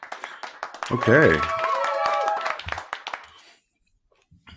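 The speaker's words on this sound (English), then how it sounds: "that's a lot more claps than I thought" A podcast audience claps in a scattered burst while someone talks over it; the applause thins out and stops, leaving near silence.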